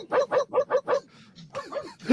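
A dog barking sound effect: five rapid, evenly spaced barks, a brief lull, then a looser run of yips and whimpery barks, fairly close and clear.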